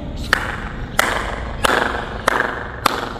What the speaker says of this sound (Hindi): बीच में खड़े हो जाओ और ताली बजाओ ना तो आवाज़ गूंजती है ऊपर